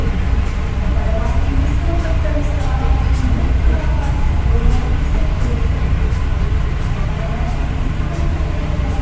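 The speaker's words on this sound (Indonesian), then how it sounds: "Sudah tiba di stasiun Semarang Poncol dan masuk di jalur 1 teman-teman." A KA Airlangga economy-class train pulls into Semarang Poncol station on track 1, a steady loud rumble with low wheel and engine drone and faint rhythmic clicks throughout, heard from inside the carriage.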